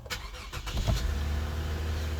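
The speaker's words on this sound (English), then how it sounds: "Away we go to that nice burbling V6" Push-button start of a 2008 Lexus GS300 3.0 V6 automatic: a brief starter whirr, then the engine catches and settles into a steady low burbling idle, close and fairly loud.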